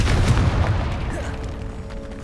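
Confringo fire spell in Hogwarts Legacy on PS4 going off as a deep, booming blast at the start that rumbles and fades over a dim catacomb ambience.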